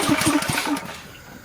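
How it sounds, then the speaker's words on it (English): A gas-engine air compressor fires up with a loud, close chugging burst that settles into a quieter running rumble within about a second. "I'm going to take the air compressor here."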